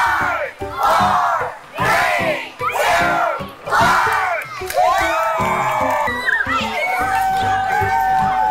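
A large outdoor crowd at the Carlisle Castle Park build event in 2022 cheers, whoops and shouts loudly and continuously in rolling waves, with applause mixed in throughout.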